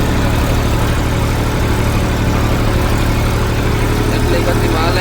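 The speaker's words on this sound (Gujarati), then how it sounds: "એટલી ગતિમાં હાલે છે ટ્રેક્ટર." A tractor engine runs steadily while sowing sesame in a farm field, a loud continuous low drone with rough vibration and no break.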